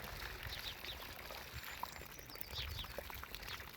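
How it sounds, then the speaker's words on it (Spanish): About 20 litres of water pour from a bucket into the basin around a young fruit tree in a garden, a steady splashing gush with faint bird chirps in the background and no talk. "aquí van 20 litros de agua en un cubo"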